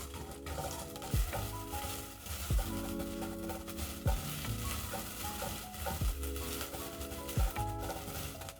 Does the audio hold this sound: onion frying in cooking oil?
yes